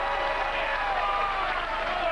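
Dense crowd noise rises at the 2002 PDC World Championship darts quarter-final between Phil Taylor and John Part, a steady wash of cheering and clapping from a packed hall that holds loud and continuous throughout, with no distinct voices.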